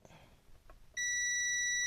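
A single steady electronic continuity beep from a multimeter probing a DualSense controller circuit board starts abruptly after some quiet handling noise and holds as a loud, pure tone.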